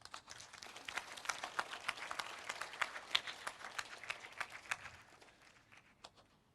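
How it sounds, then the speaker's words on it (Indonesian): An audience claps at the Satria-1 satellite launch event, a run of fairly faint individual claps from a modest crowd with no talk, fading out toward the end. "Mari kita tepuk tangan."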